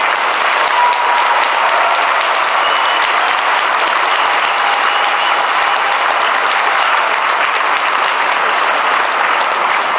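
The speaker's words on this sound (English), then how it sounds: "please have a big applause for Professor Jordan Peterson" Loud, sustained applause from a large audience greets a speaker taking the stage at a lecture event in Rijswijk, The Netherlands, a thick, unbroken roar of clapping that holds steady for the whole stretch.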